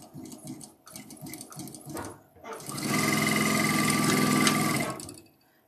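A sewing machine chain-pieces quilt blocks: a few short bursts of stitching, then a loud, steady run of several seconds at close range before stopping.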